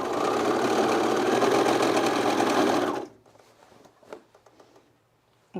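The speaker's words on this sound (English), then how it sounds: "we're gonna overlock one side seam" An overlocker sewing machine stitches a jeans side seam with a fast, loud, steady whirring buzz for about three seconds, then stops abruptly, leaving faint handling clicks and rustles.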